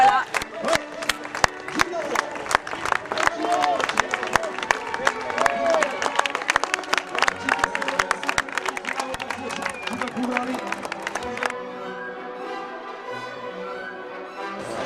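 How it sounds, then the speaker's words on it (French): Spectators at the Grand Raid de Camargue clap for an arriving team, sharp scattered claps with some cheering and crowd murmur, then dropping away near the end as a voice speaks. "l'équipe 305, on peut l'applaudir"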